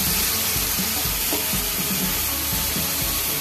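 Amti, a lentil curry, being stirred with kala masala in a pan: a constant, loud bubbling sizzle with faint scraping strokes of the spoon underneath, close up and without speech.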